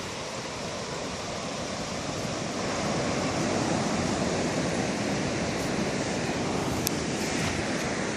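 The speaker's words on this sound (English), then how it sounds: "You can hear that ocean coming in." Steady broadband roar of ocean surf rolling onto the shore on a morning walk, continuous and fairly loud with wind buffeting the microphone and no speech.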